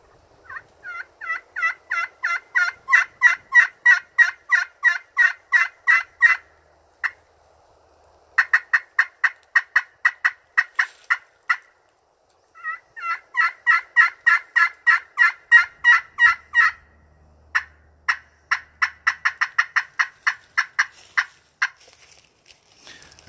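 Two-sided turkey call worked with a two-piece hickory striker, running long strings of loud, rhythmic yelps with brief pauses between series, close and clear with no talking.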